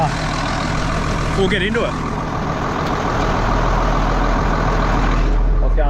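A tractor engine idles steadily and loudly nearby before rolling a bean field, a constant low rumble filling the whole stretch while someone talks briefly over it.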